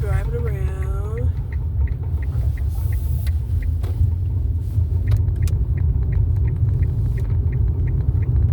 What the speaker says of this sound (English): there's a lot of people driving around.